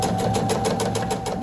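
A sewing machine stitches binding onto a scrappy quilted placemat. The stitching is a rapid, even run that is close and steady throughout, with no talking.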